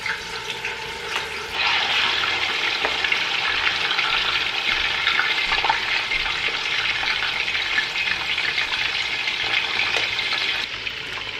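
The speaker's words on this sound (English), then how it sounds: "Start by frying your seasoned chicken." Steady sizzling of seasoned chicken frying in hot oil for Senegalese poulet yassa, continuous crackle and hiss with a few louder pops, no voices.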